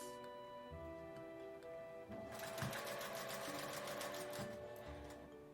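A sewing machine stitching a gauze and mesh face mask, running with a steady, rapid mechanical rattle and hum that speeds up into a louder, busier stitching burst halfway through, close up and with no voices.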